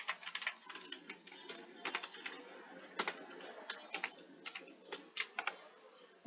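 Quiet, close typing on a computer keyboard, irregular clusters of light key clicks with brief pauses between bursts, and no talking.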